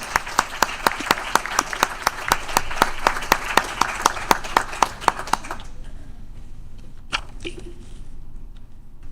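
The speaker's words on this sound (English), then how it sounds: "So give them a round of applause because they're awesome" A crowd claps for a group of young ladies in a council meeting chamber: brisk, dense applause with sharp individual claps, steady for several seconds before tapering off to a few scattered claps and near quiet.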